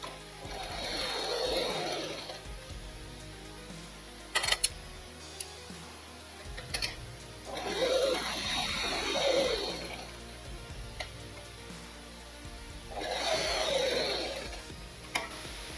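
A sewing machine stitching blouse lining fabric runs quietly in three separate bursts of rapid mechanical whirring. Brief pauses and a few small clicks of handling fall between the runs.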